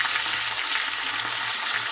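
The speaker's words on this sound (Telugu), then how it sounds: "తాలింపు అయితే వేసేసుకుందామండి" Garlic, dried chilli, mustard seeds, cumin and curry leaves sizzle fiercely in hot oil, a dense, loud, unbroken hiss close up for a short moment.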